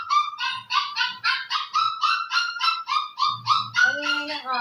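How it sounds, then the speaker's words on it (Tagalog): A dog barks noisily in a rapid, loud series of about a dozen sharp, honking yaps close by, with a lower whine or yelp at the end. "Ang ingay ng aso?"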